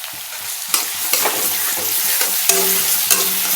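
Onions with green chillies and a little salt frying in a pan until red-brown, with a loud continuous sizzle and repeated clacks and scrapes of a spatula stirring, close and with no talking.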